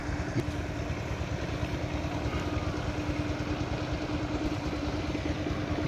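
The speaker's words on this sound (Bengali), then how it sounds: "এই যে দেখেন ট্রলার যাচ্ছে।" A trawler boat engine chugs steadily as it passes along a river, a continuous low, rhythmic drone at moderate distance with no voices.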